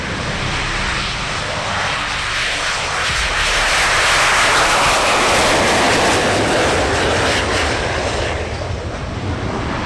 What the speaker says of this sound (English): AV-8B2+ Harrier demonstration.